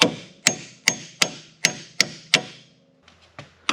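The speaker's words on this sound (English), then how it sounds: "So you take a hammer and you whack them here." Sharp metallic hammer strikes on splined bolts ring out at a steady rhythm, about seven in a row, then a few lighter taps after a brief pause; close and loud.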